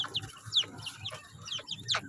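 A fighting rooster clucks close by in a quick run of short, soft calls, about half a dozen in two seconds, with a low murmur underneath.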